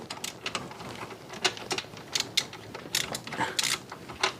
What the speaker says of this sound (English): you put the wrench on the inside, ratchet or another wrench on the outside.